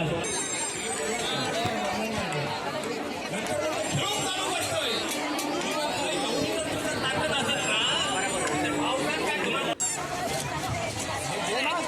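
Dense crowd babble at the Kokan Mahotsav festival market in Bhandup, many overlapping voices close and far, continuous throughout with a brief sharp knock near the end.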